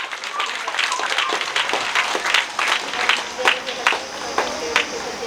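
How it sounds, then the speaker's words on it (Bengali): A church congregation clapping hands together, uneven bursts of claps rising and falling over several seconds, with voices talking and calling out underneath. "তাই প্রভুর জন্য আমরা একটু হাততালি দেই, প্রভুর জন্য।"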